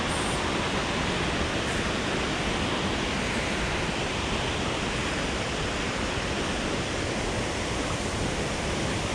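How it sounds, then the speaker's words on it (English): Tamanawas Falls, a waterfall in the Sherwood Forest area, pours in a steady, dense broadband roar from close by, loud and unbroken throughout with no voices. "This is Tamanawas Falls."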